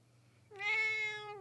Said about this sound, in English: This is my baby kitty.